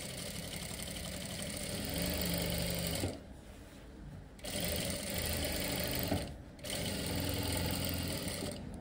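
A sewing machine runs in three sustained stitching bursts along a formal pant, with two brief pauses between them, steady and close with no talk.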